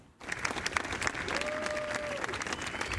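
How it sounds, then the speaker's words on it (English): Applause at the White House for U.S. President Donald Trump after signing executive orders on import tariffs: a sustained, fairly distant crowd clapping that starts abruptly and continues evenly at moderate volume, with a faint whistle-like tone partway through. "U.S. President Donald Trump receiving applause at the White House after signing new executive orders imposing new import tariffs"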